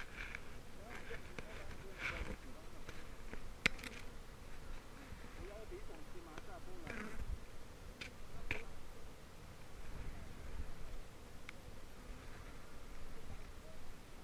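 Honeybees buzz steadily around open hive frames during smoking in Cameroon, a dense, faint, continuous drone with a few sharp clicks and taps of handling scattered through it.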